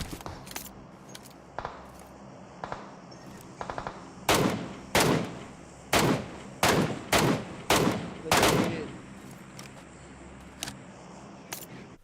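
Gunfire from an MK rifle in the mobile battle-royale game PUBG Mobile: a tight cluster of about eight loud, sharp shots fired in quick succession, preceded and followed by a few lighter isolated cracks over faint background game ambience.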